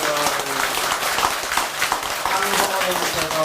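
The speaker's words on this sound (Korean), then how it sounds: "계속 박수 치십시오" An audience at a Buddhist temple sermon for Buddha's Birthday keeps up a steady clapping, which carries on beneath a speaker's voice throughout.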